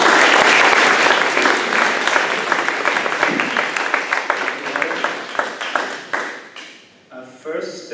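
Loud, dense applause from a lecture audience welcoming a speaker, sustained for several seconds before thinning out into scattered claps, with a voice beginning to speak at the end.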